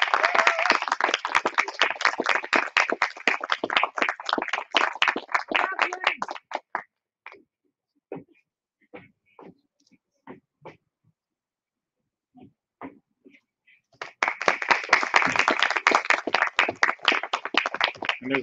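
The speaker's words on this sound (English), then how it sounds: "a big round of applause" A graduation ceremony audience claps loudly for an award recipient in two bursts separated by a quiet stretch of scattered individual claps.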